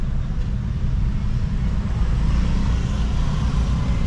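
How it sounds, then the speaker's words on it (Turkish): Traffic on a street in Bali near a school at closing time, with motorbikes and cars streaming past, a loud, continuous low engine rumble filling the whole stretch with no break. "motorlar geliyor gidiyor"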